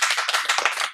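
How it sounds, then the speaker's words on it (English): A short burst of applause from a small group after a focus group discussion, quick close claps blending into a brief patter of roughly a second. "so let's give them a round of applause"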